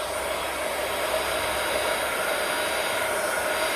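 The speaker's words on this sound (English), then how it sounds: "This will take a little bit longer to heat up because my heat gun's cold." A cold heat gun blows steadily to melt embossing powder on a card, giving a constant loud whooshing hiss with no breaks and no talking.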